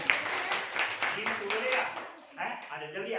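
Classroom students clapping for a classmate who has just recited a poem, a scattered round of hand claps with children's voices and chatter mixed through it.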